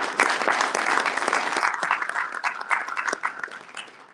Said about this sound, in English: Let's give the chairman a round of applause,